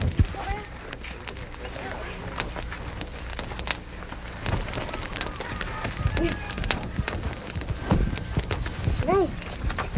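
Hooves clop in an uneven rhythm, with voices talking over them and a brief high whinny near the end.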